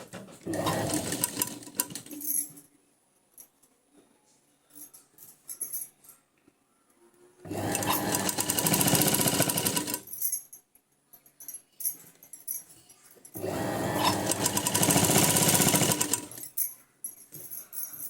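A sewing machine stitches a blouse sleeve seam at the shoulder in three long whirring runs of several seconds each, loud and close, separated by quiet pauses with faint handling noises.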